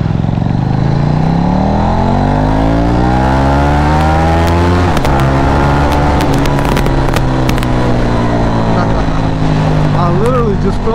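A motorcycle engine revs hard under acceleration, its pitch climbing steadily and then dropping sharply at a gear change from first to second before rising again, loud and close throughout.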